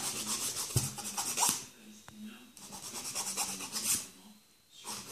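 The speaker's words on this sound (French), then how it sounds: "On relime bien les ongles." Nail file rasping across natural fingernails, repeated quick back-and-forth scraping strokes in short bursts with brief pauses, close and soft.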